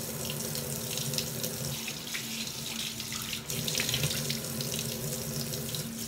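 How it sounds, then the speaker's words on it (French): Lukewarm tap water runs into a kitchen sink while tomato and honey are rinsed off a face. The flow is close, steady and continuous, with no talking. "j'enlève simplement la tomate avec le miel et tout à l'eau tiède"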